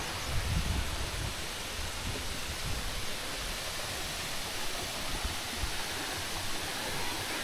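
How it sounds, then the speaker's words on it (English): Smith Falls, the tallest waterfall in Nebraska, gives a steady, full roar of falling water that runs unbroken from start to finish, with no talk over it. "That is the tallest waterfall"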